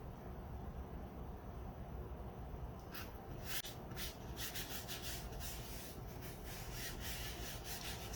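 A transfer is rubbed down by hand onto a wooden cutting board, a faint, continuous scratchy rubbing close up, alone without any talk.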